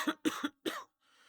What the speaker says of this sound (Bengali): আর এই কাশি